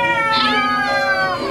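A performer at an improv theatre festival imitates a cat with a loud, drawn-out, wavering meow, rising and then sliding down in pitch.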